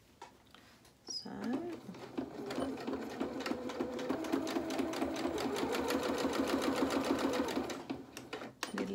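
A sewing machine stitches a shirt seam in a fast, steady run of needle strokes that starts after a quiet second and continues close and clear to the end.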